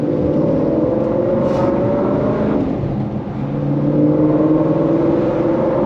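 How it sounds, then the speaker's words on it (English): A 2018 Mustang GT fitted with a Corsa Sport cat-back exhaust drones loudly and steadily as it accelerates, with a dense low rumble and rising engine tones, a brief dip near the middle, and no talking. "it's just got an exhaust sound that travels a little bit more"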